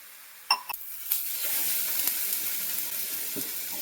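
Water poured into a hot pan while cooking upma hits with a few sharp splashes, then settles into a steady, close sizzling hiss that holds to the end.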